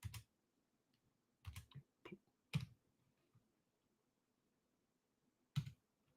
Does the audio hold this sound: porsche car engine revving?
no